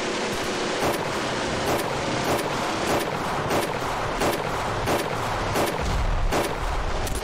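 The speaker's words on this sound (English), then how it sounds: "my small arms fire did nothing to stop that thing" Small arms fire crackles in Ravenfield, with shots in an irregular steady string over a constant roar of battle ambience, loud and close without speech.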